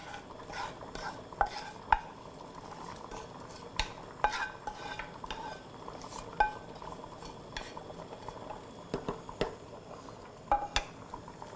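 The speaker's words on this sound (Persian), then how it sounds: "الان من سیر و نعنایی که آماده کرده بودم به آشم اضافه میکنم" Ash reshteh simmering in a pot as garlic and mint go in, spoon clinks and scrapes against the metal at irregular intervals over a faint bubbling sizzle, quiet and close with no talking.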